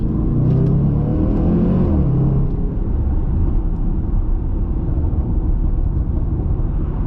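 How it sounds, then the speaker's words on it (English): A Range Rover SVR engine with stock exhaust rumbles loudly and steadily up close, with a brief rise in revs early on, then a continuous low drone with road noise. "This is currently what the car sounds like in its stock"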